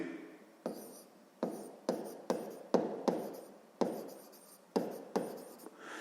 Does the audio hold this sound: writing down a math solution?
yes